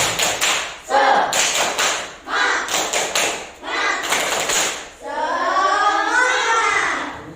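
Children in a classroom perform a rhythmic spirit clap, loud patterned bursts of claps in groups with brief pauses, ending in a sustained shouted cheer from the class.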